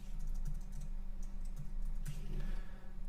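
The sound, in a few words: typing on a computer keyboard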